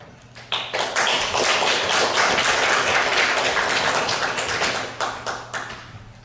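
A church congregation at a Thanksgiving service claps warmly to welcome a missionary, a dense burst of many hands that swells quickly, holds for several seconds, then thins into scattered claps.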